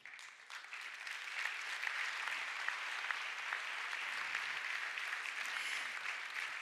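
Steady applause from an audience filling a hall at an Italian business awards ceremony, continuous clapping throughout without any voices standing out.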